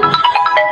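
A phone's ringtone sounds for an incoming call: a bright, looping electronic melody of quick repeated tones, close and loud, with no talking over it.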